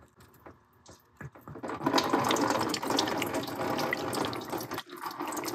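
Coolant trickles from a loosened pipe on a BMW 328i F30 with a turbocharger coolant leak. A few faint drips come first, then a steady close splashing flow of liquid.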